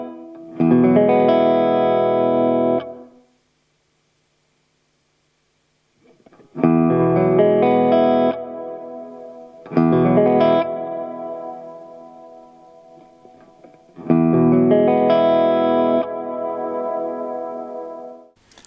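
Electric guitar through a Walrus Audio Slö multi-texture reverb pedal with its decay being adjusted: four loud strummed chords, each ringing out with a reverb tail, separated by short silences.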